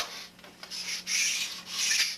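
Sanding block rubbed back and forth over balsa model airplane wing ribs, a soft dry rasping in two longer strokes with a lighter pass between, close and alone.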